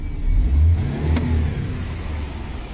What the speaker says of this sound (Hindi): तो ये गाड़ी स्टार्ट है फ्रेंड्स